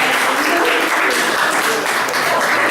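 Audience clapping along at a video game music convention talk, a steady dense wash of hands filling the whole stretch with faint voices mixed in.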